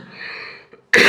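A single sharp, loud cough bursts out near the end, following a quieter stretch of muffled voice and room sound.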